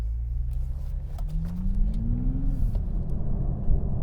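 A 2020 Toyota Supra accelerating on the road, its engine note rising steadily for a couple of seconds and then settling into a loud, steady rumble close by, with no talking.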